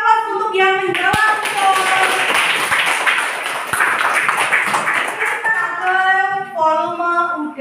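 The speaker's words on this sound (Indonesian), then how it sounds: "kasih aplaus untuk yang menjawab" Classroom applause for students who answered a question, a burst of many hands clapping for several seconds, with people talking just before and after.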